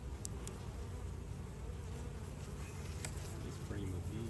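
Honey bees swarm a frame lifted from a hive during a beekeeper's inspection, a steady dense buzzing held close and continuous throughout.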